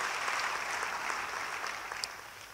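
A church congregation clapping steadily at moderate volume during a sermon, fading slightly toward the end.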